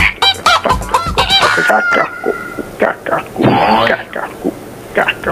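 A voice or sound effect of a chicken clucking and crowing in choppy bursts, mixed with talk and throat clearing, loud and close.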